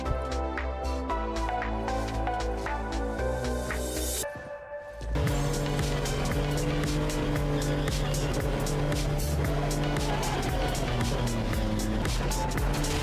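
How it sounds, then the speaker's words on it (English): In the video game Neverness to Everness, a car drives through snow with a loud, continuous engine drone and rising revs. The sound briefly dips and cuts out before the engine returns at full strength. "Some snow driving."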